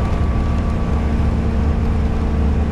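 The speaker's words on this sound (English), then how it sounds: "you probably hear some engine noise, but it's not all that real loud, leaky exhaust noise" An RV engine with a leaky exhaust drones steadily while driving, a constant low rumble with a faint hum, moderately loud and uninterrupted, with no talk.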